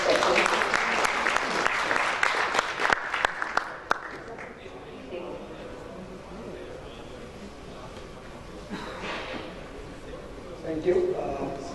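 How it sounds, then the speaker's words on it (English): A conference audience at an Energy Storage India 2014 policy session claps for its speakers. The loud applause fills the first few seconds, then fades out as a voice begins talking in a quieter room. "Can we have a round of applause for all our speakers for the next section?"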